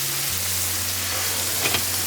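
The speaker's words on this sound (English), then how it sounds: "We're gonna do about a quarter of a cup of dry white wine in each one." Dry white wine poured into a hot pan for chicken piccata, giving a steady hiss of sizzling with a faint crackle, continuous and fairly close with no talking.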